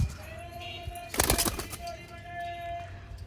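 Malwai pigeons, a Punjabi breed, coo softly in a steady low murmur across the clip, with a louder burst of fluttering or rustling near the middle.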